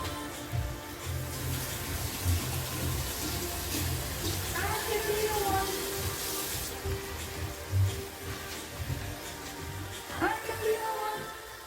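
Tap water runs steadily into a kitchen sink as hands are washed during curry preparation, a moderate splashing hiss under someone talking.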